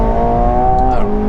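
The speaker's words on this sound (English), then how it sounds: "Engine sounds very smooth. This has got the sports exhaust. I'm in track mode, so it should be louder than standard" A McLaren 720S engine with sports exhaust in track mode drones steadily from inside the car, a loud smooth tonal hum that dips slightly in pitch near the end.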